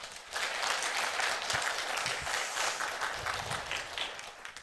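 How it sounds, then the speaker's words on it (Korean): A church congregation at a Sunday service breaks into a broad, sustained round of applause after a hymn, fairly soft and distant, building quickly and holding steady before tapering slightly. "한번 크게 한번 박수 한번 부탁드리겠습니다"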